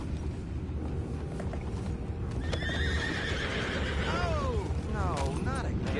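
Horses in Red Dead Redemption 2 whinny and neigh with rising and falling calls over a steady clip-clop of hooves, set against constant outdoor ambience.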